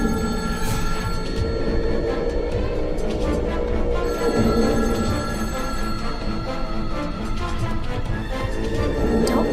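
A telephone bell rings on and on, loud and close, a continuous metallic trill over a busy layered background, with no one talking.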